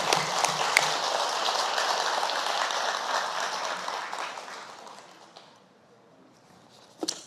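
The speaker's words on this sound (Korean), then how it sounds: "동의하시면 박수 한번 쳐주세요." Applause from a temple dharma-assembly congregation, a broad, steady roar of many hands clapping that holds for several seconds, then fades quickly to near silence, with one brief sharp sound near the end.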